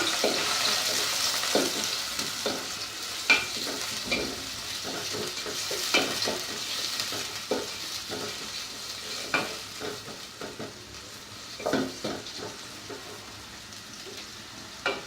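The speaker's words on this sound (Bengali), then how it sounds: "পেঁয়াজটা যখন একটু ভাজা হয়ে আসবে" Onions frying in oil over medium heat while cooking a bean and dried fish curry, a soft continuous sizzle broken by repeated scraping stirs of a spoon against the pan.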